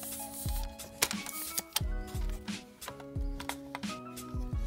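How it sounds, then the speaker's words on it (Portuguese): An aluminium camera tripod is opened with one hand, giving a run of sharp mechanical clicks, snaps and clatters as the legs unfold, close and fairly loud, with no talking. "Vou ver se eu consigo abrir aqui para vocês com uma mão só."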